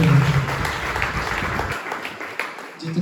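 A church congregation at a fasting prayer service claps in thanks to God, a burst of applause that fades over a few seconds as a voice speaks over it.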